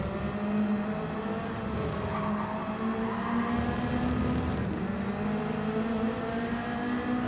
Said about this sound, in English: Really rev the little Toyota out